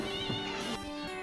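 A cat named Pisa meows in a busy veterinary practice, one drawn-out harmonic call under a dense, constant background hum of the room.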